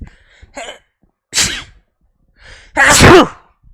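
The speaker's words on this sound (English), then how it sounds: "I'm gonna sneeze 1 second, guys." A single person sneezes loudly and close up, with a smaller sharp nasal burst and breath first, a second sneeze about 1.3 seconds in, a soft inhale, then a big final sneeze, all with no talking.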